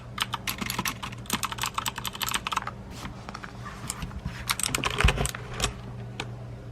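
Clicky MX Blue mechanical switches clatter on a Corsair K70 keyboard in a rapid, uneven run of sharp key presses, close and fairly loud, with brief pauses between bursts and no voices.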